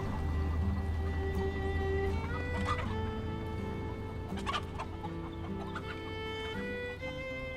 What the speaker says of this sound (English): Notice how the rooster takes care of the chickens?